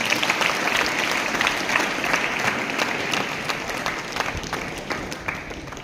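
An audience claps loudly and continuously to welcome a speaker at a school event at Adarsh Vidyalaya, Madanpur. The dense applause holds steady and close throughout, with no talking over it.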